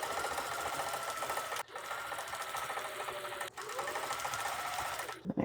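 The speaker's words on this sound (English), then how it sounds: "And I sew these 3 first." A sewing machine stitches quilt pieces together for a scrap quilt flimsy, running in steady close bursts with two brief pauses and a final stop near the end.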